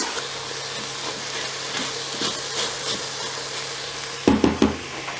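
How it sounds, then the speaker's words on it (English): Vegetables frying in a pot for beetroot leaves soup give a steady sizzling hiss, with a few soft scrapes of stirring and a short burst of louder knocks near the end. "you need to keep on stirring and mixing and watching your pot if you don't want to get it burned"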